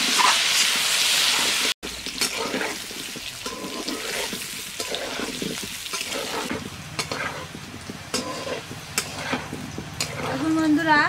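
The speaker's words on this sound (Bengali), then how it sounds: "আলুটা লাল করে ভেজে নেব।" Potatoes frying in oil in a pan, a steady continuous sizzle and bubbling that runs throughout, with clattering stirs and scrapes of a utensil on top.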